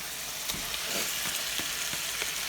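Shrimp hitting a hot pan of softened onions and sweating garlic for a Cajun dish sizzle steadily and close, with a few soft stirring knocks.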